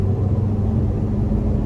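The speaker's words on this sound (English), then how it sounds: "So let's put it into sport mode. Put it into 7th gear and give it a slight tug." A Ford EcoBoost car with a Stage 1 tune accelerates gently in seventh gear in sport mode, giving a loud, steady engine rumble and drone throughout, with no voices.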